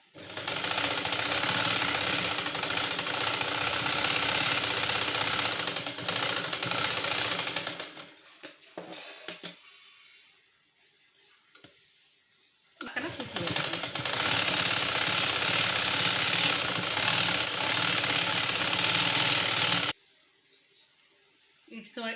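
An electric sewing machine stitches the seam of a lined blouse in two long, loud, steady runs separated by a pause, with someone talking during the quieter gap.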